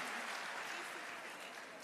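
Audience applause welcoming a minister at a teachers' engagement session, a steady dense wash of clapping sustained throughout, with faint voices underneath.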